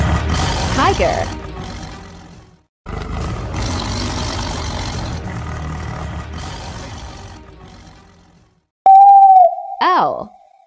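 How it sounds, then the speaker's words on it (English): A tiger gives a loud, rumbling roar that swells and fades over several seconds, followed after a short gap by another sharp, loud vocal burst. "Tiger."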